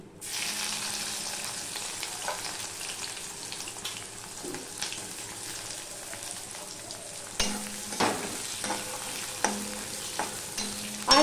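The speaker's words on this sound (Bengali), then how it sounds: "এবার আমি যে পেঁয়াজ কেটে নিয়েছি, পেঁয়াজ আর রসুনটা আমি দিয়ে দিচ্ছি।" Chopped onion and garlic sizzle in hot oil tempered with bay leaf for a spinach dish, a steady frying hiss broken by stirring clinks and scrapes.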